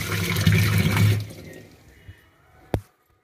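Water splashes loudly as raw prawns are washed, then fades to quiet handling, with a single sharp knock or clink near the end before silence.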